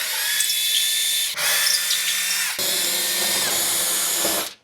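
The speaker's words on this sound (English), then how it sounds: "we're gonna go ahead and zip out the Phillips head screws first" A cordless power drill whirs in three bursts, backing out Phillips screws on a 2026 Honda Civic Si during an oil change, with brief pauses between, close and loud, stopping abruptly at the end.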